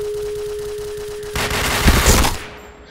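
Gunfire in the shooter game Point Blank, including an AWP sniper rifle: a steady rattling stream of shots, then a louder burst of heavy blasts that fades away, with no talk.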